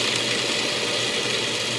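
Food processor grinding nuts into a crumbly, sandy texture; a continuous loud, even whir and rattle of the motor and blade, close and steady throughout with no talk.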